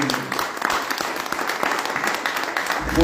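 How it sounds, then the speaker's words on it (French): Audience applause at the opening ceremony of a poetry festival as a guest is welcomed, a dense continuous clapping that stays loud throughout and swells at the end. "applaudissez-vous Massi"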